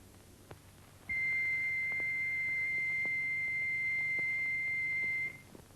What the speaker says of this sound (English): Turning the wheel produces a continuous note.